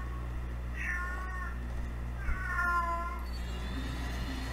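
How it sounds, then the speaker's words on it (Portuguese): A cat meows twice inside the shooter game Cyber Hunter, each a short clear call about a second apart, over a steady low game hum, with a fainter third note near the end and no talk. "Ó, tem um gato no jogo."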